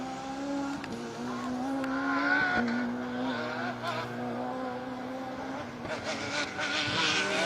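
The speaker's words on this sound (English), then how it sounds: "Again, one of these very smart, very fast BMWs." BMW rally car on a special stage of Rally Wervik, its engine droning loud and near with shifting pitch as it passes, tyres briefly squealing.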